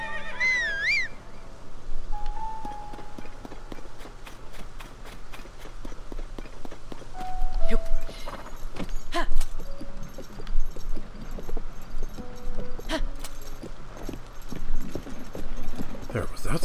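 Horse hooves clip-clopping in the video game Tears of the Kingdom, a steady run of hoofbeats at moderate level with occasional whinnies, game music and effects mixed in.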